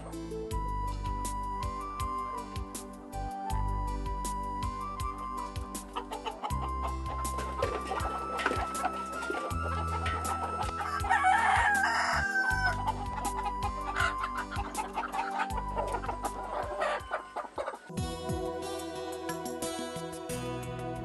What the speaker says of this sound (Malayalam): നാടൻ കോഴികളുടെ ഒരു ഫാമും ഈ വീട്ടുവളപ്പിലുണ്ട്.